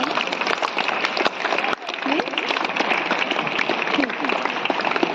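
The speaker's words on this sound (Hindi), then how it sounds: "तो हम सभी के लिए एक बार ताली बजा दीजिए" A school audience at a National Voters' Day drama performance claps, a busy, fairly loud spread of many hands with sharp individual claps, brief dips, and bits of chatter mixed in.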